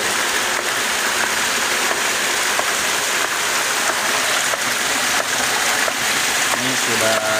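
A PVC hydraulic ram pump runs nonstop as water rushes through it, a loud continuous wet flow over faint regular knocks.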